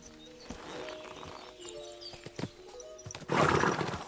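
Horse in the Kingdom Come Deliverance 2 video game gives a few hoof thuds, then breaks into a loud, breathy whinny near the end, over a faint outdoor background.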